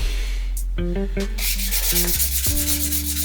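A Petoskey stone being sanded on a Lortone bull wheel, loud and close, with a continuous gritty rubbing over the spinning wheel's low hum and shifting tones as the stone is pressed and moved.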